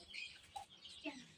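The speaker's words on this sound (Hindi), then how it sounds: "ये मुर्गी है।" A hen gives a few soft, faint clucks over quiet outdoor background noise, short scattered calls close by.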